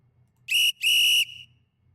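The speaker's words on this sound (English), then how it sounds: "But it's a gym whistle right here." A gym whistle sample in a song gives two sharp shrill blasts, a short one followed by a longer one, heard clearly on its own.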